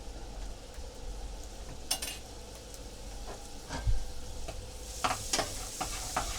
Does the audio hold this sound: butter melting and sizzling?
yes